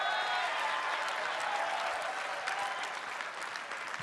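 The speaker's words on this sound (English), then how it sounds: "This is the one that gets the most applause." Applause from a convention panel audience, a steady wash of many hands clapping that holds evenly for a few seconds, fairly distant and uniform, with no voices standing out.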